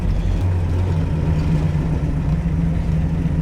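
A 1970s Pontiac Trans Am with a 455 engine and four-speed gearbox cruises along, its low, steady engine drone rumbling continuously from inside the car with no talk.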